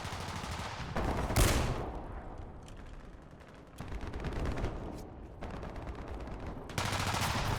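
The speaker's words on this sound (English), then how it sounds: "Our guys are shooting each other." Gunfire in War Thunder rattles in bursts of rapid shots and single cracks, loud and close, with short pauses between volleys and no talking.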